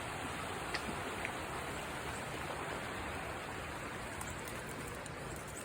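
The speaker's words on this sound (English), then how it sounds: "It's a high river." Rushing high river swollen after heavy rain, a steady, dense broadband roar of water that holds evenly throughout with no pauses, close and continuous, no voices.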